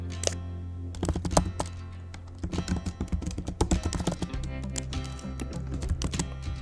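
Rapid typing on a computer keyboard while writing Flutter code, a close and steady stream of key clicks in uneven bursts with brief pauses.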